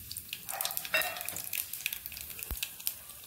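Dried red chillies and nigella seeds sizzle in hot oil as a tempering, giving a steady crackling spatter with scattered pops and one sharp clink partway through.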